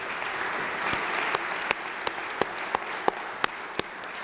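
Audience applause after a farewell speech in a state legislative chamber, a dense steady wash of clapping with a few sharper individual claps standing out near the mic.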